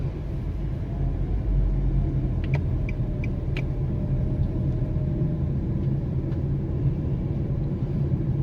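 A car drives slowly through a residential community, heard from inside as a steady, low engine and road rumble. A few faint clicks and ticks come through near the middle, and no one talks.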